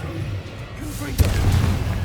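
A Confringo spell explodes in the video game Hogwarts Legacy, a sudden close boom that leaves a rumbling roar behind it over a steady game backdrop.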